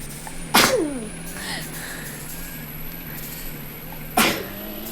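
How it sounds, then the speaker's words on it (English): A person sneezes twice, a few seconds apart, each a sudden close burst, over a steady engine rumble and high whine from a tractor pull. "Oh, I'm so sorry, y'all, for the sneeze."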